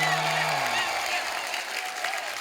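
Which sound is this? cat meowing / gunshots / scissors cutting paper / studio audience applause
studio audience applause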